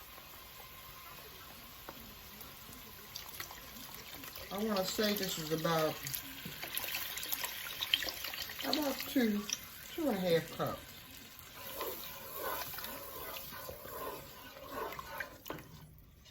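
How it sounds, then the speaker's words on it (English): Chicken broth pours and splashes into a pot in a few uneven gushes, fairly quiet and close, while a person talks over it. "Now I'm going to add chicken broth."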